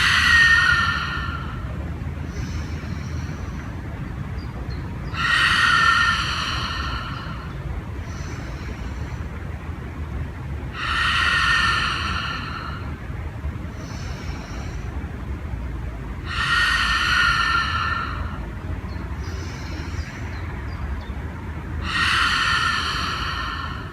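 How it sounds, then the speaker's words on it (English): Slow, deep yoga breathing, each long nasal inhale and drawn-out exhale repeating about every five seconds in a steady cycle, close and clear over a low background hum. "Good, inhale. Hold, exhale."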